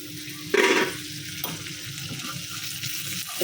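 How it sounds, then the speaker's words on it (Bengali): Bitter gourd (karela) frying in a pan, a close, continuous crackling sizzle with a sharp burst of louder spattering early on, then a steady fry. "করলা ভাজি করতেছি"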